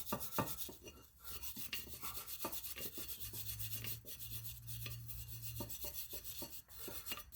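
Rust being scraped and wire-brushed off the front brake parts of a 2006 Chrysler Town & Country / Dodge Grand Caravan, a close, steady run of rasping strokes with sharp scrape bursts and a low hum underneath, no talk.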